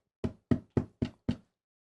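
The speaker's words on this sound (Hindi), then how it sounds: "आवाज सुन रहे हैं खटखटाने की।" Knocking on a door used as a sermon sound effect: five crisp, evenly paced raps, close and clean, each separated by complete silence.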